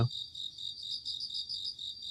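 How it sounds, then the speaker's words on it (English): Steady, continuous cricket chirping in a dense high-pitched pulsing chorus, moderately loud and uninterrupted, with no voices present. "these crickets never shut up"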